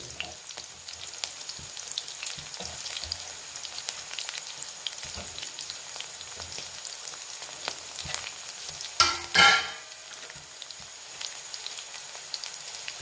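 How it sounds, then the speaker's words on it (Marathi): Cumin seeds fry in hot oil with a steady crackling sizzle and scattered spluttering pops, rising to a brief loud burst of spitting partway through. "तर जिरं टाकून घेऊया. आता जिरं चांगलं फुलून द्यायचं आहे."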